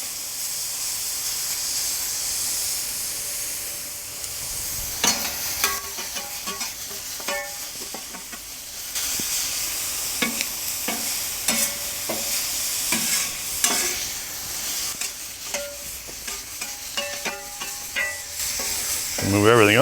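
Pork tenderloin sizzles on a plancha over a Slow 'N Sear kettle grill, a steady close hiss broken by repeated metal spatula scrapes and clinks as the meat is stirred and moved.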